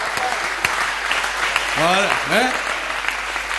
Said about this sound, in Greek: χειροκρότημα, μπράβο, ρε, παιδιά